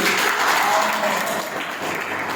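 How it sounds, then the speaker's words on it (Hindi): Dense audience applause fills a Varanasi seminar hall after a motivational speaker prompts the crowd, a steady wash of many hands clapping at fairly loud level that eases slightly toward the end. "जबरदस्त ताली होनी चाहिए भाई"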